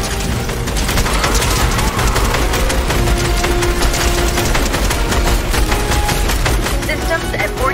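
Rapid continuous gunfire from a Fortnite live event, dense crackling bursts and booms filling the whole stretch, loud and busy with game effects underneath.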